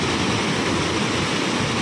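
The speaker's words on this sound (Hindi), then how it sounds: "तो गाइस ये है सिकर फॉल का जो छोटा फॉल है" The small waterfall at Shikhar Falls near Dehradun, a steady, loud, broadband roar of falling water that fills the whole moment without variation and with no voices.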